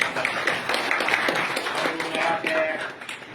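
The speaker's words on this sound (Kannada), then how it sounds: "ಅವ್ರು ಮಾಡಿದ್ದಾರೆ, ಅವನ್ನೆಲ್ಲ ಚಪ್ಪಾಳೆ ತಟ್ಟೋಣ." Audience applause at a gathering, a dense patter of many hands clapping steadily for about three seconds, with a voice faintly audible underneath.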